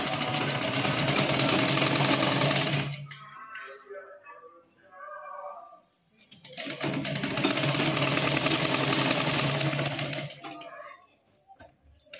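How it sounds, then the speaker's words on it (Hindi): A sewing machine stitches a blouse collar in two long, steady runs of loud whirring, with a quieter gap between them where a voice briefly talks. "इस पर सीधी सिलाई लगाएंगे इस तरह से घुमेर करते हुए"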